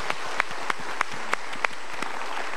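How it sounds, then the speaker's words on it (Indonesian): An audience applauds in a few rhythmic, moderately loud claps, sounding like a modest group clapping in unison for a short burst. "kita berikan tepuk tangan"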